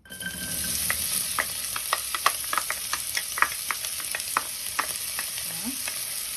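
Chopped onion sizzling in a pot while a spoon stirs it, giving a constant frying hiss broken by many quick, sharp scraping clicks.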